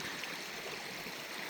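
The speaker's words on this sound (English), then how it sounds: "got a creek crossing right here, so I'm gonna try to make it across these rocks." Creek water running over rocks on the Lee Falls trail, a steady, fairly soft babbling rush heard alone without speech.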